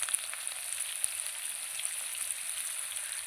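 Potatoes frying with salt and turmeric in a pan, giving a quiet, even hiss of oil with faint scattered pops throughout.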